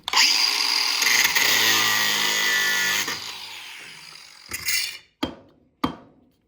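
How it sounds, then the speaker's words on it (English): A power tool grinds loudly and steadily through a metal plumbing part for several seconds, then winds down, followed by two sharp clanks of metal. "we're gonna grind this off because I don't have an Allen key"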